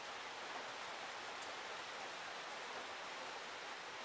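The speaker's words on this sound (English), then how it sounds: "I hear a lot of fucking rain." Steady, even hiss of heavy rainfall in the horror video game The Horrors Lost Tape, constant throughout with no voices, ending in a brief thump.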